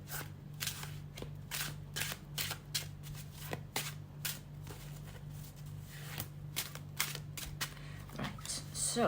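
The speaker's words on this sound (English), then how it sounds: "let's shuffle it the other way around." Tarot cards are shuffled up close in a series of quick, crisp riffling bursts at an irregular rhythm over a faint low hum.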